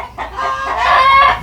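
Chickens cluck and fuss together around a hen straining to lay an oversized egg, a rooster joining in; the calls are close, continuous and rise in intensity toward the end, with no talking.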